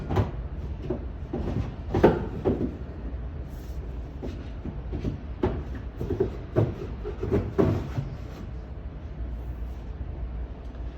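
A sideboard drawer is pushed home during furniture assembly, producing a series of wooden knocks, rubs and scraping slides at close range, irregular and fairly loud throughout.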